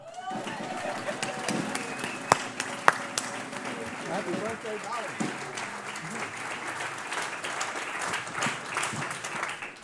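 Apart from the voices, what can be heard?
audience applause for a birthday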